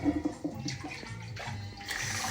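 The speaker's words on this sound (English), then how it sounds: "I just let cold water run on it" Cold tap water runs over rice in a steel pot, a soft, steady rush and splash close by that swells toward the end, with no voices.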